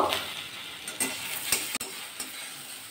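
Potato and okra pieces fry in a kadai for a Bengali bhindi dish, giving a steady close sizzle broken by a few sharp clicks and scrapes as the spatula stirs.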